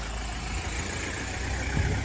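A Honda XRE 300 motorcycle fitted with a Dore exhaust idles with a steady, dense, rumbling burble, loud and close, and no one speaks.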